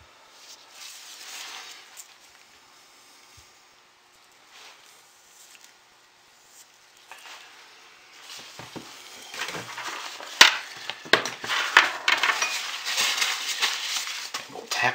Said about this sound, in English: take the end of my spatula and do an in the mold